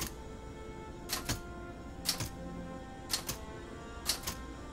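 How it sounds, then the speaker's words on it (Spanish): Typewriter keys clacking in the World War II VR game Medal of Honor, four evenly spaced pairs of crisp mechanical strikes over a faint steady hum, close and moderately loud with no talking. "suena igual que una máquina de escribir"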